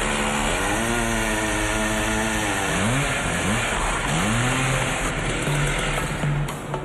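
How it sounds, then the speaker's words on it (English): A loud chainsaw drones steadily, its engine pitch rising and falling as it cuts a huge tree trunk into drum-sized chunks for taiko drums, with a constant high whine above. "the titanic trunk is cut into drum-sized chunks with a chainsaw"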